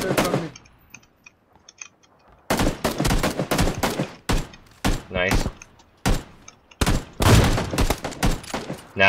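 Rapid bursts of gunfire in a PUBG squad match, clipped volleys of close shots in quick clusters separated by brief pauses, with players talking between and over the shooting.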